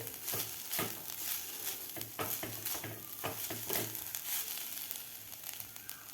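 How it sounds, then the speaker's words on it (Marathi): Freshly grated coconut roasting in ghee for modak filling, soft continuous sizzling broken by regular scraping stirs of a spoon against the pan, fairly quiet and close. "इथं आता आपल्याला हे दोन मिनिट तुपामध्ये हे ओलं नारळ परतून घ्यायचं आहे"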